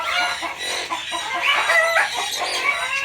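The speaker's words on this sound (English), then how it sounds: "Something's upset the chickens." Agitated chickens, including a Frizzled Blue Laced Red Wyandotte rooster, cluck and squawk loudly and continuously nearby, with crowing-like calls rising over the flock.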